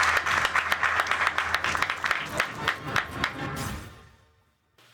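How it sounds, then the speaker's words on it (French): A crowd bursts into lively applause that holds strong for a few seconds, then fades away quickly into near silence. "Et je pense qu'il mérite un tonnerre d'applaudissements"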